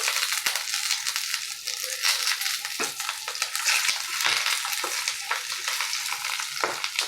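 Paturi fries in a pan with a steady, dense sizzle, broken by a few soft scraping knocks as the parcels are turned over, and no one speaks.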